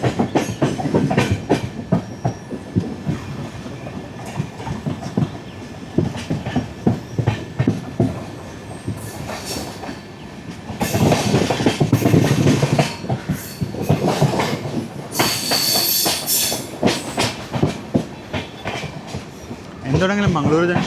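Riding aboard the 16337 Okha–Ernakulam Express on the Konkan Railway, rhythmic clickety-clack of wheels over rail joints rises and falls, with bursts of rushing noise and faint wheel squeal, while people talk intermittently over the train.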